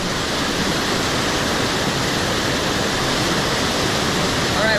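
Mae Sa Waterfall roars as a dense, steady, loud wash of falling water, unbroken from start to finish, with no voices.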